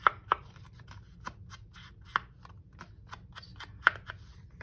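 Scissors snipping through glossy William Morris patterned paper, a few sharp separate cuts spaced irregularly over low background rustle, close and fairly quiet.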